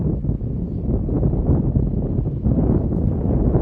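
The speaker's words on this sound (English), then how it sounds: "Woo, the wind, baby, cutting right through Super Bass Man" Steady wind rushes and buffets close to the microphone outdoors, a continuous low roar with slight gusting swells and no talk.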